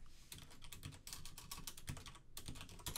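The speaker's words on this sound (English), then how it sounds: "I can type in our super secure password" Quick, steady clicking of keys as a password is typed on a computer keyboard, close and fairly loud, a dense run of taps with brief pauses and no voices.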